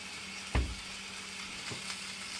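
A beef roast browns in a hot pan with a steady, close sizzle, broken by one heavy thump as the meat is set down and a lighter knock later.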